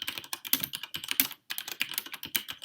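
Fast typing on a mechanical keyboard, close and fairly quiet, a dense run of crisp key clicks with one brief pause partway through.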